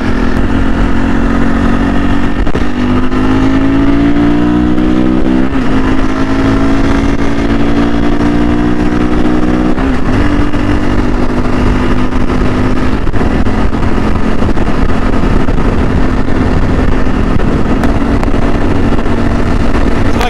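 A CSC RX4 motorcycle cruises on the highway at about 70 to 75 mph, its engine droning loud and steady with heavy wind roar throughout, briefly shifting pitch along the way.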